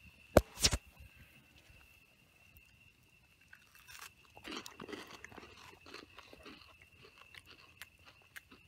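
Someone bites into and chews a crunchy cookie baked in a cast iron pan at a campsite: a sharp close crunch at the start, then quieter intermittent chewing over a faint steady outdoor tone.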